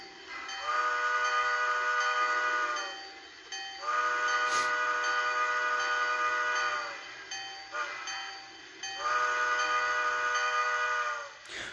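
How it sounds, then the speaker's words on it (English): Bachmann ALCO 2-6-0 model train with DCC sound giving a grade crossing signal: three long, loud whistle blasts in a long-long-short-long-style pattern, separated by brief gaps, with faint background hiss between them. "I will go ahead and do a quick grade crossing sequence so you can hear that with the bell and whistle"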